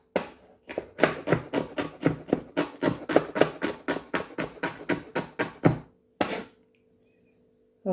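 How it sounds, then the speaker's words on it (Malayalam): Knife finely chopping an onion on a board, a fast steady run of about twenty close, crisp chops, then a pause and one last short burst. "അപ്പം ഈ സവാള ഇങ്ങനെ അങ്ങോട്ട് ചെറുതായിട്ട് കട്ട് ചെയ്തെടുത്തു"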